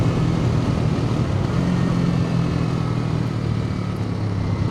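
A 2025 Kawasaki W230 retro motorcycle being ridden, its steady engine drone and wind rush loud and continuous throughout, with no talking.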